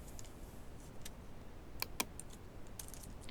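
Computer keyboard keys click sharply a few times, including a press of the Enter key, with quiet isolated taps over a faint steady room hiss and no voice.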